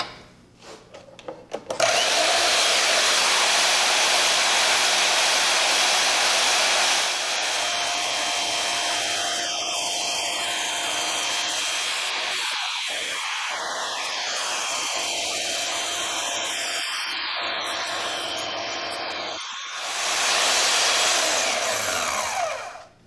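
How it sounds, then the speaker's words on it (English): A bandsaw whines continuously for about twenty seconds, its tone shifting as it cuts through steel, with a brief lull and restart near the end. "now I'm going to fire up my bandsaw and cut along these lines"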